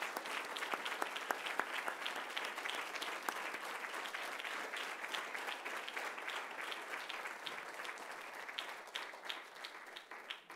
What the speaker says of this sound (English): If you please give me a round of applause for those guys.